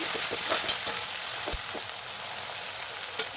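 Onions, curry leaves and tomato frying in a pan give a steady, hissing sizzle with light stirring clicks, close and moderately quiet, with no voices.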